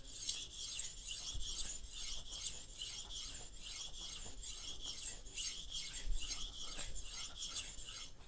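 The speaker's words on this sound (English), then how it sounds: "We're not grinding away as much steel as we're just fine tuning it." Soft steel knife drawn across a higher-grit whetstone, a fine, quiet rasping in steady repeated strokes, close up with no voices.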